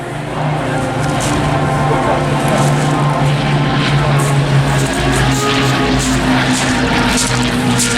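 Engine drone from WWII propeller aircraft, a Hurricane and a Lancaster of the Battle of Britain Memorial Flight, flying near Pevensey at the Eastbourne Airshow, a steady loud piston hum holding throughout with a faint voice beneath.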